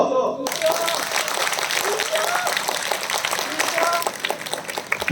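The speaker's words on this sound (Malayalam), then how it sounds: "കൈയടിച്ചോ" An audience at a testimony gathering bursts into sustained, dense applause after a brief moment of speech, with clapping continuing loudly throughout and voices mixed in.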